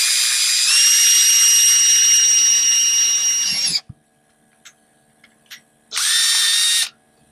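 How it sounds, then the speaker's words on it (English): Power drill boring a hole through a game controller shell with a 9/32 drill bit, a loud steady high whine for several seconds, a few faint clicks, then a second shorter burst. "you just want to go right onto the middle of your pilot hole and drill your hole through"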